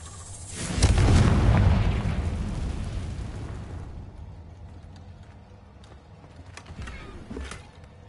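A Confringo blasting spell in Hogwarts Legacy erupts as a loud fiery explosion with a deep boom, then rumbles and fades into quieter crackling debris and scattered small pops.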